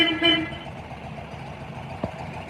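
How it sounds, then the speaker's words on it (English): Horn of a 1967 Volkswagen Beetle, a short nasal toot at the start and a faint tap later, close and fairly loud against a steady hum. "Oh my goodness, the horn works."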